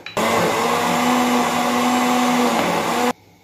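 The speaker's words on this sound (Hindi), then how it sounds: "चटनी हमने पीस ली।" An electric grinder whirs loudly and steadily for about three seconds as it blends tamarind, green chillies, garlic and cumin into chutney, then cuts off abruptly.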